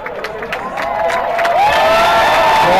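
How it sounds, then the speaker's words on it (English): Spectators applaud and cheer at a quidditch cup final between University of Texas and Lone Star QC; the crowd noise swells from a moderate murmur into a louder, sustained cheer with scattered shouts. "crowd applauding the effort"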